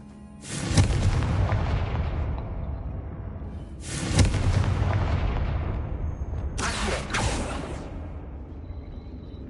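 Three explosive Confringo spell blasts in the video game Hogwarts Legacy, each a sharp booming burst that rolls off into a long fading rumble, spaced a few seconds apart.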